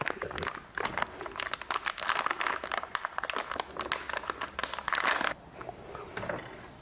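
Close crinkling and tearing of a plastic packet of beer brew enhancer, continuous rustling and crackling for several seconds before it quiets down.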